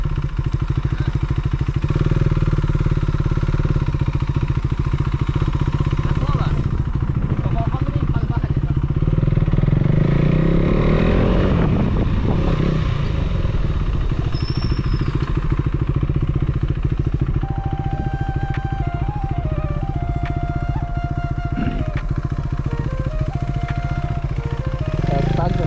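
A KTM Duke 390 motorcycle engine runs steadily and loud throughout, a continuous close engine drone while riding, with a voice talking over it.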